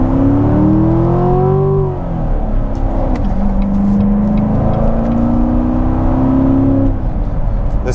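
A Corvette engine accelerates hard, its loud drone climbing in pitch, dropping briefly at a gear change, then rising again in a long smooth pull.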